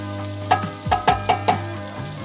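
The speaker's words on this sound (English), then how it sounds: "so we've got our skillet nice and hot. Melted some butter down in it." Melted butter in a hot skillet gives a steady, close sizzle, with a few soft clicks and taps of a utensil against the pan rising above it; no one speaks.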